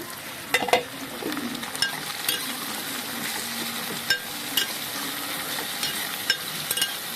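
Tomatoes sizzle in a hot pan for a palak paneer curry, a constant crackling fry with a few sharp stirring clicks and scrapes, no voices.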